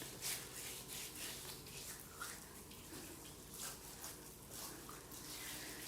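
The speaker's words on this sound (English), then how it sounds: "We're gonna do the foot scrub." Feet being scrubbed with a foot scrub at home, soft repeated rubbing and scraping strokes in an uneven rhythm, faint and close with light watery sounds, no talking.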